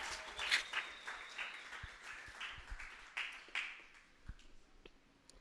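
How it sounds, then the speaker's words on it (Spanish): An audience claps at a church Sunday special event for volunteer actors, a dense patter of hand claps with crisp transients that swells and thins over several seconds, moderately loud in a reverberant room. "Denle un aplauso porque se animaron."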